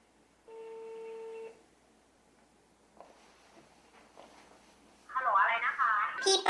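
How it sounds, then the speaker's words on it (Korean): A telephone call placed to a restaurant, with a steady ringback tone of about a second, a quiet pause, then faint line noise before a voice answers and speaks. "그가 운영하는 레스토랑에 전화해봤습니다."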